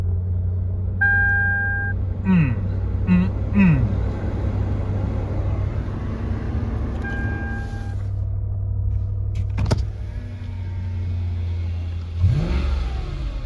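A 2009 Lexus LS 460L sits running with a steady low engine drone, rising in a few short revs partway through and again near the end, with faint cabin noises and the odd brief voice.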